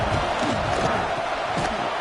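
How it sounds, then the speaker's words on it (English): A stadium crowd at a college football game roars steadily with dense, sustained cheering and yelling throughout, loud and continuous with no break. "the crowd coming to life here, trying to help this defense down in the red zone"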